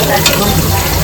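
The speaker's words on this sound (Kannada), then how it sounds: "ಗೋಲ್ಡನ್ ಬ್ರೌನ್ ಚೆನ್ನಾಗಿ ಫ್ರೈ ಮಾಡಿ" Food frying golden brown in a pan, a loud, dense, continuous sizzle filling a brief moment, close and without pauses.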